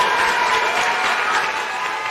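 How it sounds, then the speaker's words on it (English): Studio audience applauding a contestant on a TV talent show, a steady dense wash of clapping that holds fairly loud for about two seconds and eases slightly toward the end. "A round of applause for Barry."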